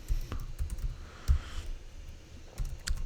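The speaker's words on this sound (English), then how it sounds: "let me type it in properly" Code being typed on a computer keyboard, a close series of soft key taps in short irregular bursts with brief pauses, no talking.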